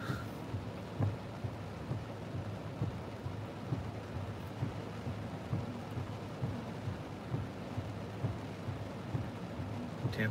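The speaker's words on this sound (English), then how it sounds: "it's raining so hard I don't want to get out of the car." Heavy rain drums steadily on a parked car at the Gatlinburg Welcome Center, a dense, constant patter with low rumbles beneath, heard from inside without talk.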